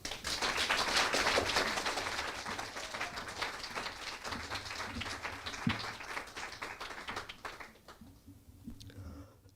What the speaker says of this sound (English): A round of applause for Tom.